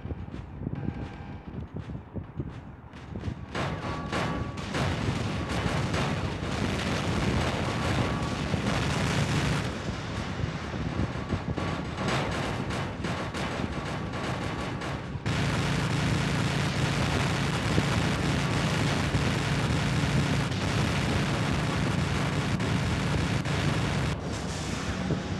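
Heavy robot weapon fire and explosions in the War Robots mobile game, with a dense, continuous roar of booms and blasts that gets louder partway through, with no talking.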